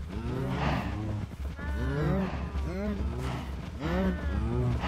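Several Minecraft cows keep mooing in a farm pen, low rolling calls overlapping at a steady pace while someone talks over them.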